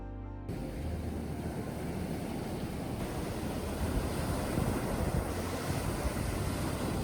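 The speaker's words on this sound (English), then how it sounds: "The waves still crash with power and shower the shore with foam." Ocean waves wash onto a shore in a continuous roaring surge, loud and close, with heavy wind buffeting the microphone and no voices.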